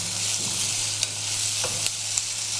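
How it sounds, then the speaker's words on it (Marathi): Chopped onion frying in a pan, a steady low sizzle with faint stirring scrapes and a few light clinks. "कांदा आपल्याला चांगला परतून घ्यायचा आहे"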